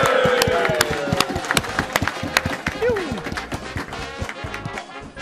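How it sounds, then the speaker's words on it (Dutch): An audience at a carnival show applauds and cheers, dense clapping filling the room with sharp hand claps standing out, while voices talk and call out over it. "Mag ik een heel goed applaus."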